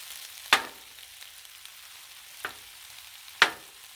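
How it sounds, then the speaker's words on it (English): Smoked sausage and vegetables cook on a flat griddle with a faint, steady sizzle, broken by three sharp metallic taps or scrapes spaced a second or two apart. "So this is smoked sausage I just throw it on there."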